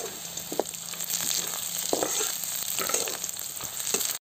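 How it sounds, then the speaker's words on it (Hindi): Onions, curry leaves and almonds sizzling and roasting in a pan for semolina upma, a steady close frying hiss with occasional scrape and stir sounds, no talking. "प्याज को भी डाल देंगे। इसको अच्छे से भून देते हैं।"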